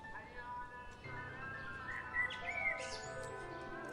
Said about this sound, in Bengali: পাখি ডাকছে, গ্রাম আবার জীবিত।